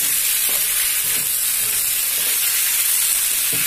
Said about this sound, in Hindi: सॉस के साथ इसको अच्छे से थोड़ी देर में फ्राई कर लूंगी